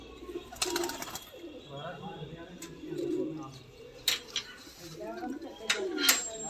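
Pigeons coo softly and repeatedly in a loft, low rolling calls scattered through the scene, mixed with occasional sharp metallic clinks and distant voices.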